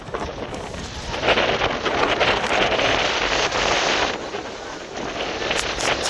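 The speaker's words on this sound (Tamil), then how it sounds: "கடுமையான காற்றுடன்" Strong wind on the Vivekananda path at Kanyakumari buffets the microphone in a continuous broadband roar, with gusts swelling and easing throughout and no voices.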